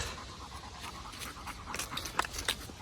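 A German hunting dog bred for bird hunting pants close by, quick steady breaths with a few sharper puffs toward the end.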